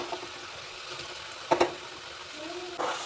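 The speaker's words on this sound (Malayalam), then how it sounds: "ഇനി നമുക്കിത് തിളച്ച എണ്ണയിലോട്ട് ഇട്ട് കൊടുക്കാം" Potato French fries frying in hot oil at home give a faint, steady sizzle, with a couple of brief clinks partway through and a soft stir near the end.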